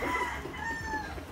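A chicken gives a short, strained, nasal call, heard once up close and clearly with no voices over it.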